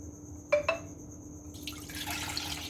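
Water is poured from a glass for a vinegar salad dressing, starting with two quick clinks and then a soft, steady trickle of liquid nearby, with no talking.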